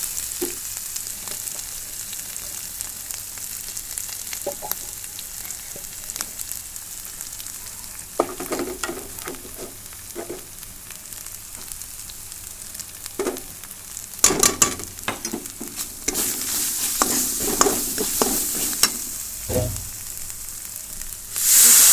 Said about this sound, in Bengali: মশলাটা মোটামুটি ভাজা হয়ে গেছে সুন্দর একটা গন্ধ ছড়াচ্ছে